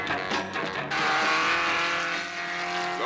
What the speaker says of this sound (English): Now, Dick, cut in the supercharger. Watch the tachometer